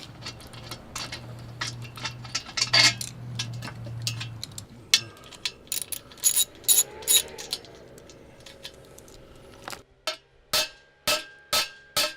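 A 1/2 inch ratchet driver works a bolt loose from a gate, giving a run of close, sharp clicks that quicken into a regular ratcheting rhythm toward the end.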